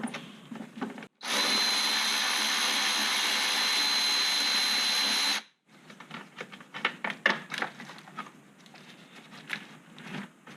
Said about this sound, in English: right now, I'm going to remove that 10mm nut